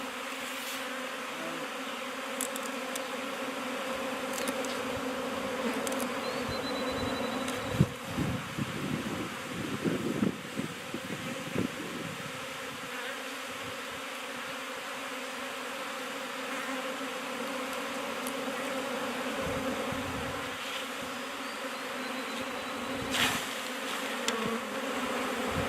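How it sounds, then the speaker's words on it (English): Bees swarm around a hive during swarm catching, a dense steady buzz that stays close and constant, broken by occasional louder passes near the microphone and light wind noise. "I don't know how to get my hands under there without making a bunch of bees upset."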